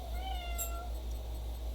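A cat gives a single drawn-out meow in the background, moderately clear over a steady low hum, with no talking.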